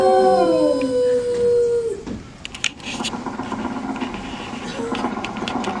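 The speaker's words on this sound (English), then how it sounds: "Down, Rover." A dog howls in the Carousel of Progress animatronic show at Walt Disney World's Magic Kingdom, a loud drawn-out falling howl for about two seconds, followed by a mechanical whirring and clattering under room noise.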